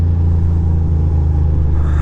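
Steady low road-traffic rumble heard from a Ducati motorcycle, a deep continuous engine and tire drone, loud and close with no breaks and no voices.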